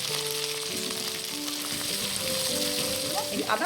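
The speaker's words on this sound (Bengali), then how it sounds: "তো দেখো পেঁয়াজটা প্রায় ভাজা ভাজা হয়ে গেছে, সে ভালো করে আমি নেড়ে নেবো" Onions frying in oil with garlic paste nearly browned, a continuous dense sizzle with occasional stirring scrapes, close by; a faint voice briefly murmurs underneath.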